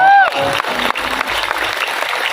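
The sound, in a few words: audience applause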